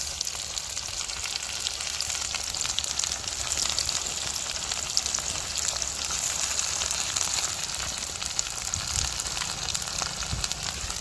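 Green chilli and ginger-garlic paste fry in a pan with a continuous bright sizzle, close and fairly loud, broken by occasional stirring scrapes and small pops, no talk.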